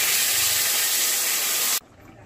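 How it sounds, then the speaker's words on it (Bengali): Gravy poured into a pan of potato curry (aloo dum) on the stove, a loud steady rushing hiss that cuts off abruptly near the end, leaving quiet room tone. "তো এবার মা ঝোলটা দিয়ে দিচ্ছে।"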